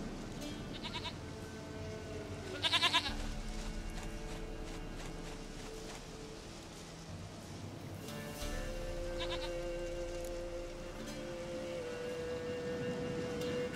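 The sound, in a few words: goat bleating in video game The Witcher 3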